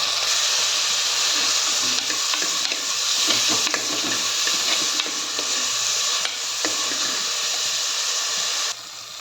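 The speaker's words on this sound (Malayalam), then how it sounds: "ഇനി ഇതിലേക്ക് തക്കാളി ഇട്ട് കൊടുക്കാം തക്കാളി ഒന്ന് നന്നായി വണക്കിയെടുക്കണം" Tomatoes sauté for an egg curry, sizzling and hissing steadily in a hot pan, with occasional stirring scrapes over a loud, continuous fry that runs the whole time without talk.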